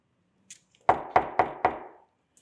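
Four firm, evenly spaced knocks on a door sound close and loud in a quiet room, with a faint voice just before them.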